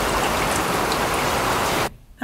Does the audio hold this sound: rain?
yes